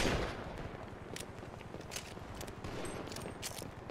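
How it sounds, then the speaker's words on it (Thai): Rapid gunfire in the video game GTA, a dense rattling burst of shots that continues through the clip at fairly low level, with no talk over it. "ยิงคุ้มกันไอ้แจ็คยิงคุ้มกันไอ้แจ็ค"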